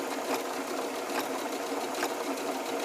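A sewing machine stitching a zigzag edge finish on a narrow hem, a continuous close rapid mechanical chatter with a steady rhythmic pulse throughout, no talk.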